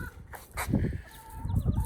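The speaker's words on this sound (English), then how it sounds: "The chickens are not happy right now." Backyard chickens cluck in irregular bursts close by, sounding agitated, with a few short calls over a light background.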